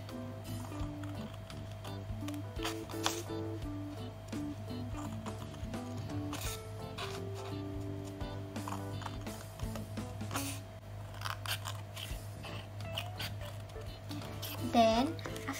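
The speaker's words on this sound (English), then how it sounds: "we can cut the side of this paper plate" Scissors snip through the side of a paper plate in short crisp cuts scattered through the stretch while a voice talks over them, over a steady low hum.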